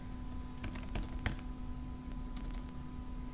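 A few scattered keystrokes on a computer keyboard, light taps in small clusters over a constant electrical hum, with no talking.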